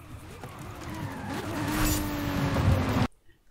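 Aston Martin V12 Vantage with a racing engine swap in Forza Horizon 5, its engine rising steadily in pitch as it accelerates with some tire noise, loud and continuous, then cutting off abruptly near the end.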